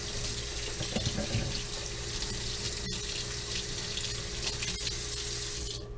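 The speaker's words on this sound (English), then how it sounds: "I'm gonna wash my hands" Hands are washed under a running kitchen tap, a steady close stream of water splashing into the sink with small shifts as the hands move through it.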